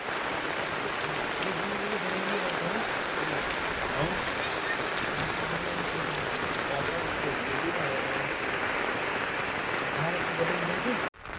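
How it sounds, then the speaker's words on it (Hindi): Steady, heavy rain pours continuously in a village, a dense hiss of drops hitting surfaces throughout, with faint voices murmuring underneath. "गाइस बारिश बहुत भयंकर हो ही रही है यहाँ पे"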